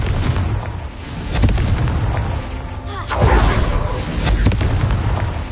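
Confringo blasting spell going off in Hogwarts Legacy: loud, booming explosive bursts with rumbling low end, several impacts across a few seconds, close and heavy.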